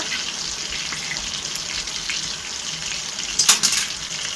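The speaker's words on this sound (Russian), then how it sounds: "Котлеты у меня жарятся." Steady, close sizzling of meat patties frying in a pan, a continuous crackle with a brief louder spatter near the end.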